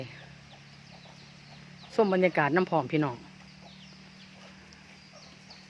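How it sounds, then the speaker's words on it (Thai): Chickens on a village farm give a brief burst of clucking and squawking calls lasting about a second, loud over a steady background hum, with a person talking nearby. "ไก่"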